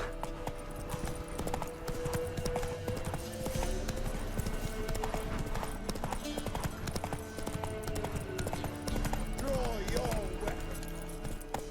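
Witcher 3 horse Roach clip-clopping along at a steady gallop rhythm, hooves continuous throughout over game music and ambience, with a voice urging the horse on.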